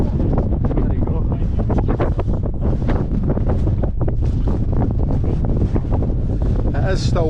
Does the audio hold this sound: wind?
yes